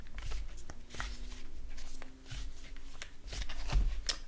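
A Light Seers tarot deck being shuffled by hand and split, with a continuous close riffling and flicking of cards and a few firmer slaps, no talking.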